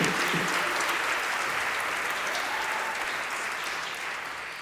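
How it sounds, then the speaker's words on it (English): Sustained clapping from a live concert audience at Gower Street United, a dense, steady wash of applause that eases slightly toward the end. "everybody give it up to our sound man, Matt Dines, everybody"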